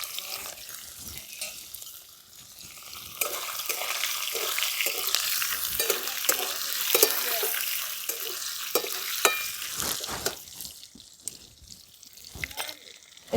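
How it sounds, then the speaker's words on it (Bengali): Paneer cubes frying and being stirred in hot white oil in a pan, a steady close sizzle with scraping stirs, swelling louder partway through before easing off. "এই পনিরগুলোকে আমি ভেজে নেবো সাদা তেলটায়।"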